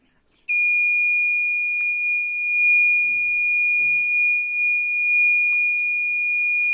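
A steady, piercing electronic alarm tone from an Arduino MQ2 gas sensor buzzer sounds continuously after a brief silence, loud and close, with faint handling noises underneath.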